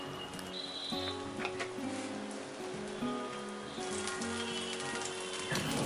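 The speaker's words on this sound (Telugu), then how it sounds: "దాని మీద ఉల్లిపాయలు జీలకర్ర పోసుకొని కొద్దిగా నూనె పోసి కాల్చుకోవాలి." A leftover-rice dosa topped with onions and cumin fries in oil on a pan, giving a steady, even sizzle throughout, with tonal background music layered over it.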